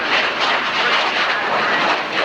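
RAF Jaguar jet flying a display at the 1991 Alconbury airshow, a loud continuous roaring jet noise with a slightly fluctuating rush, heard close and alone.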